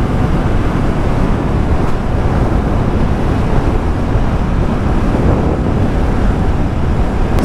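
Heavy, constant wind roar buffeting a microphone on a motorcycle riding at high speed on an expressway, loud and steady throughout with no pauses.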